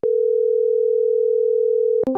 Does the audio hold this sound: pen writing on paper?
no